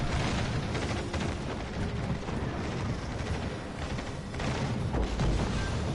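Torpedo hits and explosions in World of Warships Legends, a naval battle game with Tier III Russian ships, form a dense, continuous roar of booms and blasts that stays loud for the whole stretch, with bursts swelling near the end.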